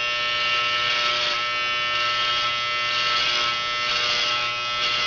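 Electric hair clippers shaving a head, a steady close, loud buzzing drone with slight shifts in pitch as the blades move across the scalp.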